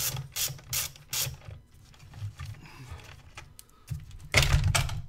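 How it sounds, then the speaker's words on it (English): A 10mm ratchet loosens a nut on a 2000 Chevy Tahoe 5.3 engine during intake manifold gasket work, with quick close ratcheting clicks in short bursts, pauses in between and a louder run at the end. "Take a 10mm, take the nut off for your electrical"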